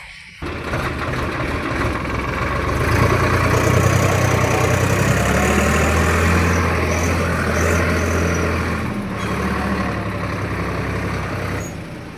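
A tractor engine runs close by with a steady, loud diesel rumble and idle throb that holds for the whole stretch, swelling slightly in the middle, with no talking.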